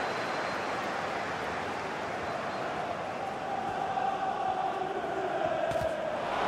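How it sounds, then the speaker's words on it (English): A football stadium crowd at a Premier League match between Nottingham Forest and Manchester United roars as a continuous wash of noise, with a steady distant din and a faint rising chant. "just listen to this crowd"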